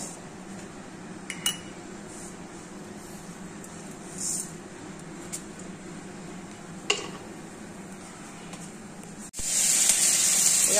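Dried red chillies and spices hitting hot oil for tempering, a steady low hiss with occasional clinks of utensils, then a sudden loud bright sizzle near the end.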